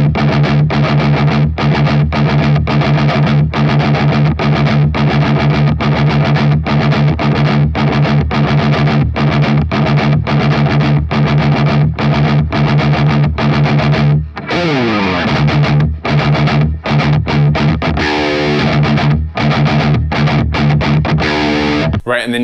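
Distorted electric guitar plays a riff, loud and close, with rapid evenly spaced chugging palm-muted notes, then a section of sliding notes and sparser open-string chugs.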